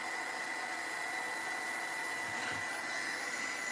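Steady whirring hair dryer blowing to dry paint on a furniture piece during a patina or matte wax finishing job, a constant broadband roar running alone throughout.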